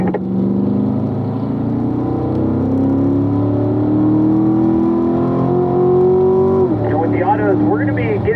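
A race car revs hard on a road course, its engine note climbing steadily through a long pull before a gear change near the end. The engine is loud, close and continuous, with no talk over it.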